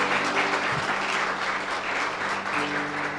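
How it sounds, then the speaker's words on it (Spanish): A church congregation claps together at a Spanish-language service, a steady, moderately loud wash of applause with a low hum underneath and no one speaking. "¿Quieres darle un fuerte aplauso al Señor?"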